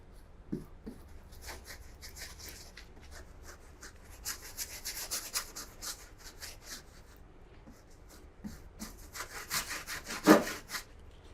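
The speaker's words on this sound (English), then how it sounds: "when I start scraping into that, I start getting some interesting stuff going on in the wood there" A tool scrapes into painted wood in short, uneven strokes, quiet and close, with scratchy rasping bursts and a sharper scrape near the end, no talking.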